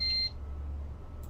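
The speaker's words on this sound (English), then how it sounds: "Who's beeping me? Who is beeping me?" A single short electronic beep sounds at the start, followed by a low hum and a faint click at the end.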